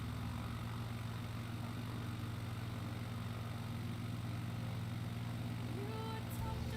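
The engine of a small bush plane drones steadily in flight. The low hum is constant and fairly faint, and there is no talking.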